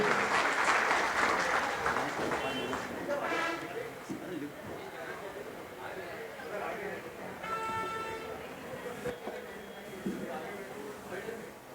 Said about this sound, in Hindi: दादा जोरदार तालियां।